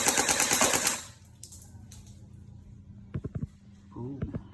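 An AUG battery-type pellet gun fires a rapid burst of clattering shots at a cardboard target, then falls quiet apart from a few faint clicks and brief talk near the end.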